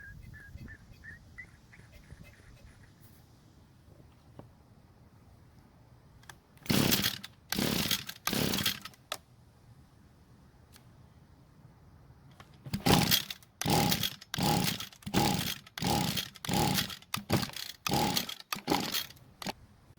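A string trimmer with its air filter cover off is pull-started repeatedly without catching. Two groups of quick, rasping cord pulls sound close by, about three and then eight, separated by quiet pauses.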